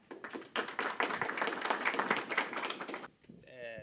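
An audience at a conference keynote applauds, a dense burst of clapping that holds steady for about three seconds and then stops abruptly, followed by a brief quiet moment and a faint tone.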